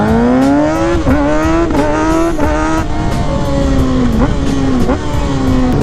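A 2020 Kawasaki 636 motorcycle set up for stunt riding revs loudly and continuously near the listener, its engine pitch rising and dipping in repeated throttle blips.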